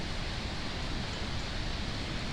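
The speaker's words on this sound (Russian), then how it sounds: "А там у нас какой-то водопад." A small waterfall gives a steady, even rush of broadband water noise, constant and unbroken throughout.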